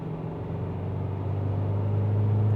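Isuzu MU-X with the 2.2 litre MAXFORCE diesel accelerating, a low steady engine rumble building gradually as the revs climb, heard from inside the cabin without speech.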